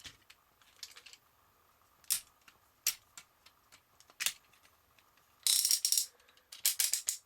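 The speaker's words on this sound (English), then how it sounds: "Nice ratchety joints there." Clicky ratcheting joints on a Da Garn Seven Changer toy robot being moved, a series of sharp plastic ticks and clicks spaced irregularly, then quick bursts of rapid ratcheting, close and fairly quiet with no talking.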